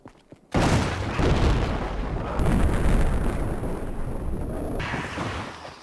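A magnum revolver headshot in Resident Evil 5, one sudden booming blast that cuts in loud and rolls into a long, heavy rumbling tail.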